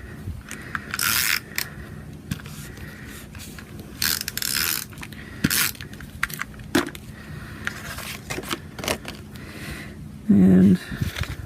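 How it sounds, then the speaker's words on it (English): A snail adhesive tape runner rolls and clicks as it is applied while assembling a stamped birthday card, giving scattered ratcheting bursts and scrapes with a louder, buzzier stroke near the end, with no talking. "let me get my snail adhesive."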